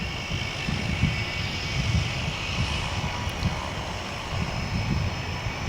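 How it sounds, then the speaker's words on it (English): A Martin Air cargo plane taking off from DFW International Airport, its engine roar steady and fairly distant, rumbling and whooshing through the whole stretch with no talk. "So as this takes off"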